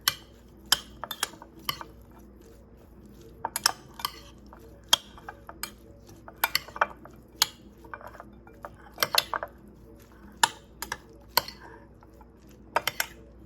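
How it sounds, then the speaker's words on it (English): A spoon stirring black bean corn salsa in a bowl, with sharp irregular clinks and taps of metal against the dish over a quiet, close background. "just take a spoon and stir everything together"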